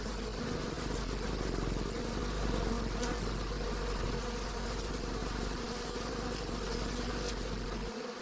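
A swarm of belligerent bees defends its honeycombs against a raiding death's head hawkmoth, producing a dense continuous buzzing drone at steady loudness throughout, with a low hum underneath.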